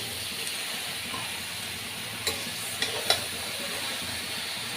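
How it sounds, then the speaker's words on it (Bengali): Malabar spinach leaves frying in fish oil hiss and sizzle softly in a pan, with a few brief scraping stir clicks near the middle; quiet and close. "তো পুঁই শাক পাতাটা দিয়ে আমি ভালোভাবে একটু নাড়াচাড়া দিয়ে দেবো।"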